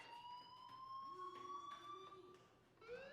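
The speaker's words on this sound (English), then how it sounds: "do you hear that fire alarm? That means you should be outside." A faint school fire alarm in Life is Strange sounds as a steady, sustained electronic tone that holds for several seconds with a slight pitch shift near the end, heard in the background without talk.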